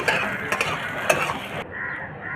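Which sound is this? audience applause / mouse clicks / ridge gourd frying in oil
ridge gourd frying in oil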